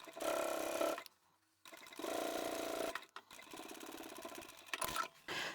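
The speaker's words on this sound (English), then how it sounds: "The flap needs to be out of the way, and we can top stitch." Sewing machine top stitching a zippered phone pouch, running in three bursts: a loud steady run, a short pause, another steady run, then a quieter, slower stretch of stitching with small handling clicks near the end.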